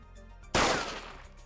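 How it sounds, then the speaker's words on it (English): A single sharp gunshot cracks loudly and alone after a quiet moment, its blast decaying into a brief echoing tail. "the gunshot sound kind of scared me"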